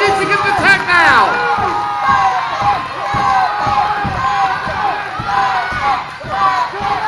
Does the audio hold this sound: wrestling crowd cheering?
yes